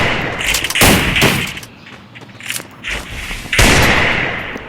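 Gunfire in the mobile battle royale game Free Fire: close, loud bursts of shots with heavy thumps, separated by brief quieter gaps before another burst erupts.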